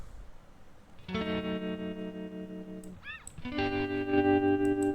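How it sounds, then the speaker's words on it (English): An electric guitar stem, panned left, plays sustained chords thick with distortion and chorus, pausing briefly for a quick bending lick before ringing chords return, loud and reverberant. "now we have got another guitar pan to the left"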